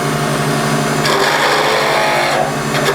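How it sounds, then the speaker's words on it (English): A skew chisel rests on the tool rest and cuts a turning pen blank on a wood lathe, producing a loud continuous scraping hiss over the lathe's steady hum, with no talking. "I've got the thumb on my skew chisel, supporting it on the tool rest, guiding it"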